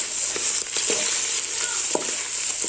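Chickpeas toasting in a pan give a steady, close sizzle and frying hiss, broken by light stirring scrapes throughout.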